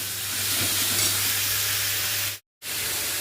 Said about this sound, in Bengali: তেলটা গরম হয়ে গেছে এর মধ্যে এখন গোটা জিরে ফোড়ন দিয়ে দিই